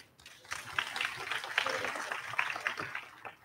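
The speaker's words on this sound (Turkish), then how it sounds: "Kuvvetli alkışlar öğrencilerimiz için." Applause at a medical faculty graduation ceremony: a crowd claps steadily through the whole stretch at moderate distance, fairly quiet overall, a dense continuous patter without voices on top.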